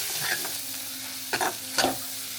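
Chicken rassa curry, made with a roasted onion and coconut paste, bubbles in a pot. A steady close hiss carries two brief louder bursts of bubbling or stirring.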